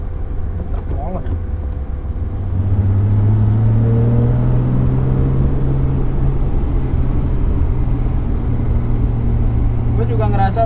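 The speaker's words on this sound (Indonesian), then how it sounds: "Truk molen." A heavy cement mixer truck rumbles past close by, its low engine drone swelling and holding steady under steady road noise.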